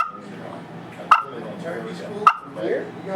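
Gobbler clucks popped deep on a turkey call at a New York turkey hunting lodge: two sharp, isolated clucks about a second apart, close and distinct over a low background murmur.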